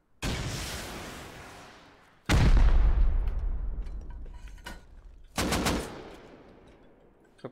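Three loud bursts of automatic gunfire in the survival game Rust, each a sharp rapid volley at about 0.2, 2.3 and 5.4 seconds that rings out and decays, the middle one heaviest with deep low-end boom.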